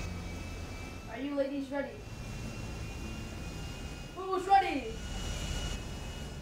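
A steady airplane engine drone from the video game GTA 5 runs throughout, with voices talking loudly over it in two short bursts.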